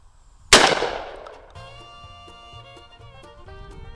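A shotgun fires in a video game: one loud, close blast with a long decaying tail, followed by ringing tonal game sounds and soft thuds.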